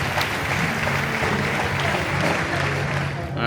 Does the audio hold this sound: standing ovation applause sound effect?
yes